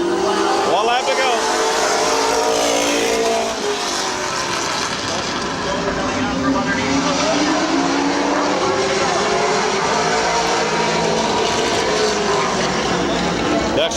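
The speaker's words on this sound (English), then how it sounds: "Daryl Dexter gets second on the last lap." Race cars roar through the final lap at Midvale Speedway, a dense, continuous engine drone with pitch sweeps as cars pass, loud and steady throughout under a race announcer's voice.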